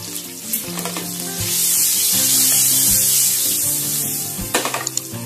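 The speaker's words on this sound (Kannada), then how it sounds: "ನೋಡಿ ಇದೆಲ್ಲ ಚಟಪಟ ಅಂದಿದ ತಕ್ಷಣ" Green chillies and turmeric spluttering in hot oil in a pan for a brinjal cashew masala curry, a loud steady sizzle and crackle with occasional knocks of a utensil against the pan.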